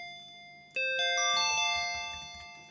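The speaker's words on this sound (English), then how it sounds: "increase the pitch of the blue oscillator, maybe set it to 24 or something, a very high pitch, so we get the bellish kind of sound" High-pitched bell tone from a Bitwig Phase 4 synth, raised oscillator pitch, rings out in a few bright, sustained bell-like notes that decay slowly, clear and alone with no speech.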